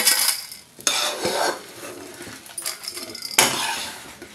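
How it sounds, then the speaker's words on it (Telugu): Metal pan and utensil clatter as fried ingredients are scraped from a pan onto a plate, with several sharp scraping bursts and clinks, close and fairly loud, no talking. "ఇప్పుడు దీన్ని ప్లేట్లోకి తీసేసుకుందాం."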